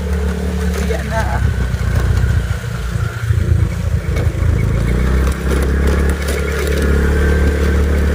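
A car driving at night toward Manila, giving a steady, loud engine and road rumble from inside the vehicle with no voices over it.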